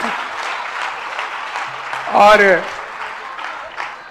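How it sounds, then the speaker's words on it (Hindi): Audience applause at a Jain religious gathering, steady clapping from a seated crowd running throughout, partly under a man's amplified speech, with a brief louder swell of voice in the middle. "जरा हमारे जो दर्शक लोग हैं, वो श्रोता लोग, जरा जोरदार तालियां आप भी बजाइएगा,"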